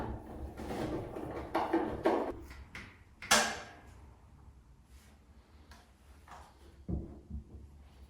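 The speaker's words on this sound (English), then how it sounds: "I'm going to put the glass doors on now." Glass doors being fitted onto a homemade medicine cabinet in a bathroom renovation, a series of scattered clunks, sliding scrapes and one sharp knock, close and irregular, with no talking.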